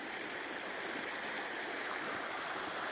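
A forest creek along a back road near Gold Beach flows steadily, a close, even rush of water with no voices.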